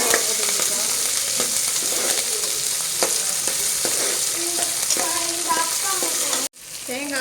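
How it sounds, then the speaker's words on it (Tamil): Lentils and green chilies sauté in a hot pan for a traditional adai, with a loud, steady sizzle and occasional stirring scrapes that run continuously before cutting off abruptly near the end. "தேங்காவையும் போட்டு வதக்கிக்கலாம்"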